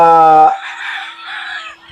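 A gamefowl rooster on a game farm crows loudly and close by, one harsh drawn-out call that trails into a raspy fade.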